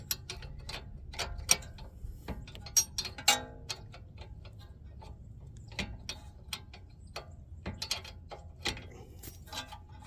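Wrench loosening the brake caliper bolts on a 2007 Honda Civic during a front brake pad job: a run of quick metallic ratcheting clicks and taps, close and fairly quiet, coming in irregular bursts with no talking.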